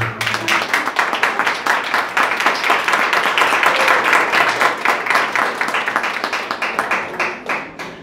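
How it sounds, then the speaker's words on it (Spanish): A church congregation claps for the King: dense, sustained applause from many hands fills the room throughout, loud and continuous with scattered voices underneath. "Dale un aplauso al Rey."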